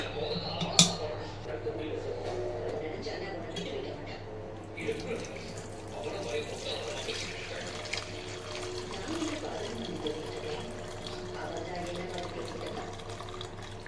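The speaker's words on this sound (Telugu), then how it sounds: "నీళ్ళు వంపేసి పోపు వేసుకుందాము" Water poured off boiled dal for tomato and drumstick dal, a steady splashing pour with occasional clinks of a pot and utensils, close and moderate in level throughout.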